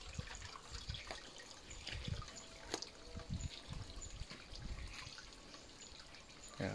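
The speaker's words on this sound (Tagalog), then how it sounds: "Ito ang tubod." Water trickling from a natural spring outdoors, a faint continuous babble and dribble with soft splashes, steady and low, alone without talk.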